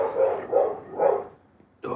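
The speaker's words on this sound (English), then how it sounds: "Oh, those dogs." Several dogs bark in three spaced bursts at moderate distance, with a short pause before a voice comes in at the end.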